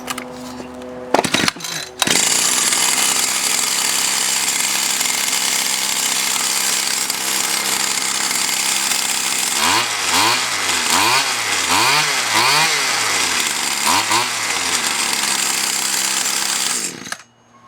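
A repaired Stihl FS76 string trimmer's two-stroke engine, carburetor freshly adjusted, starts with a couple of sharp pops and then runs loud and close at high revs, with several rhythmic revving swells near the end before cutting off.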